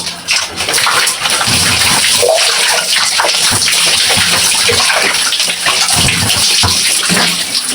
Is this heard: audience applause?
no